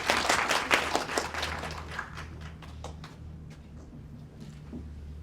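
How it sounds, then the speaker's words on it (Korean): An audience at a startup demo day in Busan claps, starting as a lively burst of applause and then thinning to scattered claps that fade away. "박수 한번 부탁드리겠습니다"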